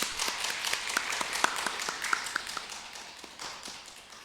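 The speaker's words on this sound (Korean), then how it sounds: "우리 감사의 박수 한번 드릴까요?" Church congregation at a Wednesday worship service applauding, a scattered patter of claps over a low room hum, moderately faint and without voices.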